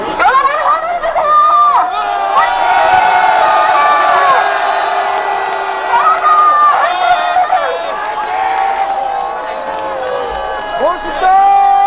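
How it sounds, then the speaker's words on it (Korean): A large crowd of students and supporters at a middle and high school students' press conference cheers and shouts loudly and continuously, with high voices rising and overlapping throughout. "여러분 환호해주세요!"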